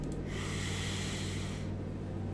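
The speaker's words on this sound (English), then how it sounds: "Oh no, not a yawn." A single long, breathy yawn, close to the mic, swelling into an airy, hissing exhale that lasts about a second and a half before trailing off over a steady low hum, with no speech.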